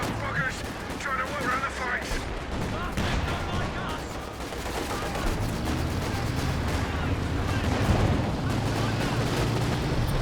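Stuka dive-bomber barrage in Company of Heroes 2, a rolling wall of blasts and booming impacts that stays loud and dense throughout, with gunfire mixed in and a commentator talking over the top.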